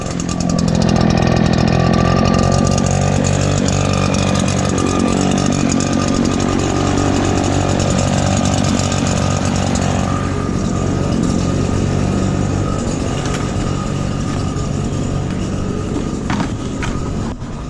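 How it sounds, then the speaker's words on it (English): A small two-stroke chainsaw engine fast-idles loud and close after a cold start in winter with the choke still on, holding a steady, buzzing rumble throughout with no talk. "Once it gets to more of a steady rumble, is when I'm gonna take off the choke."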